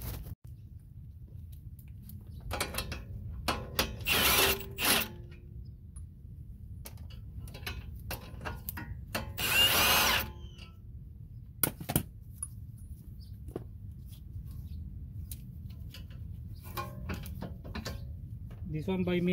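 Pneumatic impact gun zipping off the front strut bolts on a Honda Element, several short loud rattling bursts between quieter ratchet-like mechanical clicks and shop noise.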